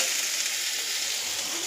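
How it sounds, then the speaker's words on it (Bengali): Spiny gourd and potato fry in a pan with a steady, even sizzle that stays constant and fairly loud throughout, with no other sounds over it. "এখানে করছি কাঁকরোল ভাজা আলু দিয়ে"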